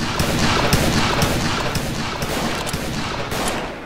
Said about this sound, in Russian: Кого стрелять? Стреляю во всех